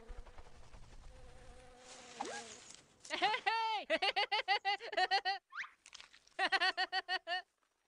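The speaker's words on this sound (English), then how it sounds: "Bee." A bee in a children's first-animals learning game buzzes in short rhythmic pulses, repeated bursts of droning hum in sequence, with a brief voice heard earlier.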